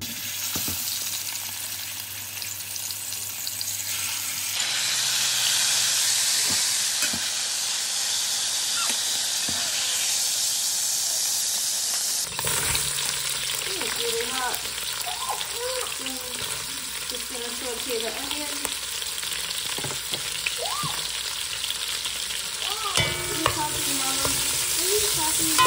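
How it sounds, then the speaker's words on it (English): Onions sizzle and hiss steadily in a hot pan on a home stove as a utensil stirs them, giving close scraping and clinking over the frying noise, with faint voices in the background. "I cooked the onions till they got a little caramelized"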